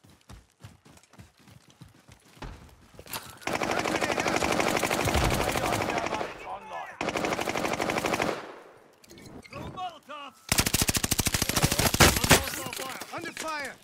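Sustained heavy automatic gunfire in a tactical shooter video game with thermite and stun grenades in play, long loud bursts of rapid shots broken by short pauses, with scattered single shots before.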